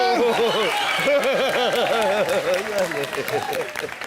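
A studio audience at a Hindi TV comedy show applauds in a sustained wash of clapping, with voices and melodic sound riding over it before it gradually tapers off.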